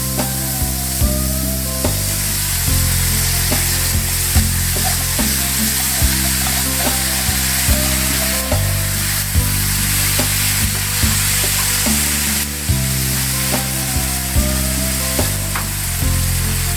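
Steak and beans sizzle and fry together in one pan, a steady close crackle with a low rhythmic hum underneath throughout.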